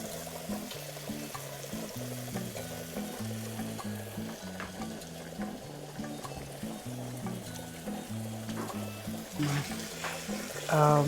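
Gravy simmering and bubbling steadily in a pan after sausage is taken out, a soft continuous sizzle under background music and occasional talk.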